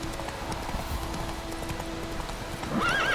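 Roach, Geralt's horse in The Witcher 3: Wild Hunt, gallops with rapid, steady clip-clop hoofbeats, and a neigh rises near the end over the running hooves.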